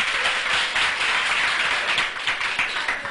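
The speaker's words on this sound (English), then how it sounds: "Clap for him." An audience at a school quiz competition clapping for a contestant, a dense burst of many hands that holds steady, then thins toward the end.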